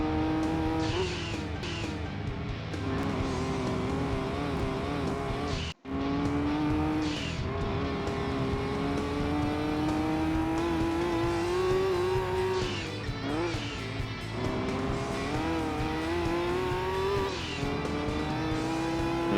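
A Nissan race car fitted with a turbo kit in Gran Turismo 2 drones loudly and steadily throughout, its engine pitch climbing through the gears with brief dips at shifts and occasional tire squeal.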